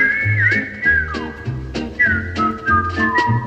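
A whistled melody of the theme tune from The Andy Griffith Show carries clearly alone over a light plucked, rhythmic backing, its sliding whistled line rising and falling across the phrase.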